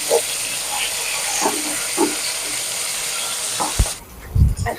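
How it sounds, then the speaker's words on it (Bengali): Koi fish frying lightly in oil in a pan gives a broad, even hiss and sizzle, broken by a few soft stirring clicks, then the sizzle cuts out near the end before a brief low thump. "খুব হালকা করে কই মাছটা ভাজতে হবে।"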